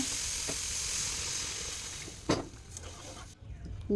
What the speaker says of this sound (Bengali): ঝোল ফুটে গেছে দেখো।